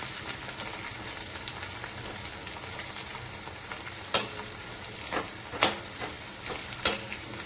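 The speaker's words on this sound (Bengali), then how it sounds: "এখন গ্যাসের আঁচটাকে আমি বাড়িয়ে দিয়ে এখন আলুটাকে ভালো করে কড়া করে ভাজতে।" Potatoes fry in a pan over a raised gas flame, a soft steady sizzle broken by several sharp, louder crackles and pops toward the end.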